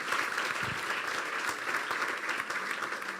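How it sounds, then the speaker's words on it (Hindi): Church congregation clapping during a Hindi-Urdu sermon, a steady fairly faint patter of many hands with no talking over it. "अपने लिए तालियां बजा दे"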